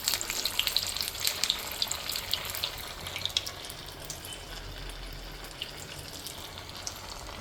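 Sabudana vadas made with mashed potato frying in hot oil, a steady soft bubbling sizzle with a few crisp pops, fairly quiet and unbroken, with no voices.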